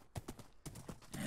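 Horse hooves clip-clop in a Minecraft game world at night, several quick, evenly spaced hoof clacks sounding close and moderately loud, with no talking over them.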